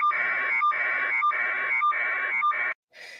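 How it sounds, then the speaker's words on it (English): An electronic alarm beeps in five long, evenly spaced tones, each a steady buzzing pulse, fairly loud and close, with no voices over it. "There's not much I can do about the beeping noise"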